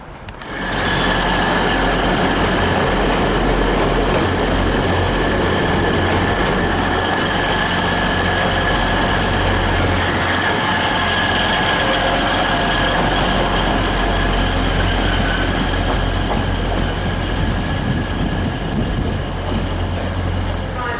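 Class 158 diesel unit 158904 runs on the Tyne Valley Line, a steady loud engine drone with a low rumble and sustained whine lasting the whole stretch, without talk.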